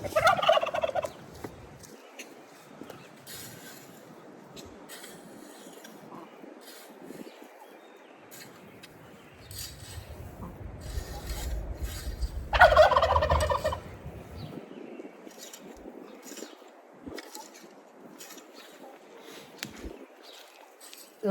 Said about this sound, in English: It's like how the turkeys like to talk every time I talk